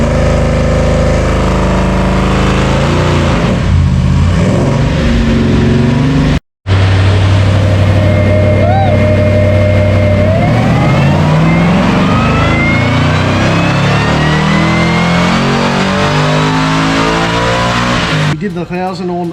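Heavily modified 1000 hp Holden VF Commodore running E85 on a dyno, loud engine roaring and revving with rising sweeps in pitch, a brief cut near the start, then a long climbing pull.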